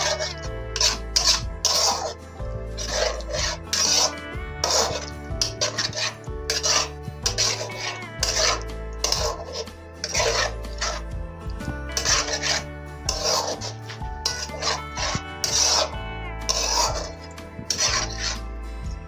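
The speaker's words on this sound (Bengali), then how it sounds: "এবার এটা আমি একটু নাড়াচাড়া করব" Masala begun, spiced eggplant, stirred in a pan, rhythmic repeated scraping and rasping strokes of a spatula over steady low background music, close and continuous throughout.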